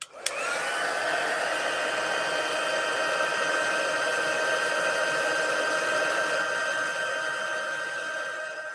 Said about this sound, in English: back to the heat tool.